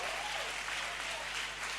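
A church congregation claps steadily together, a dense continuous wash of applause filling the room with a faint low hum underneath.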